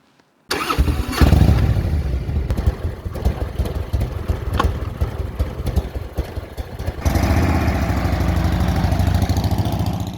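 A motorcycle on a tour of the Ballon des Vosges around Colmar, France, starts after a brief silence, then rumbles loudly and close, revving unevenly before settling into a steady, louder engine drone.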